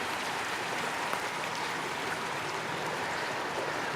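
A creek runs steadily under an old pipe near Hillandale Bridge in Euclid, Ohio, a constant broadband rushing wash of flowing water, close and even throughout, with no talk.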